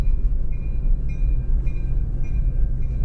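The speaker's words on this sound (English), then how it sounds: "Wait, does the train go through here?" Steady low rumble of a train rolling past nearby, with a faint high-pitched whine rising and falling over the continuous noise.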